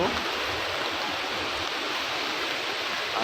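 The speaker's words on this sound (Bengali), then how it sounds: "প্রচণ্ড বৃষ্টি হচ্ছে" Heavy rain pours outdoors near the sea, a dense, constant, loud rushing wash with no breaks.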